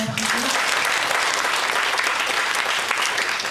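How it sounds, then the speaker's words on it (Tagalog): A church congregation applauds during a sermon, a dense and even roar of clapping that starts abruptly and holds steady, with a brief voice audible at the very start. "Palakpak natin ang anak mo."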